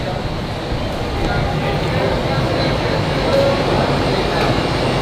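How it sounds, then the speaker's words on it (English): Subway station ambience at the Venezuela–Brazil border: steady broadband rumble and hiss of a busy underground space, with a faint distant rattle of trains and machinery and no clear voices. "Let's go into the subway."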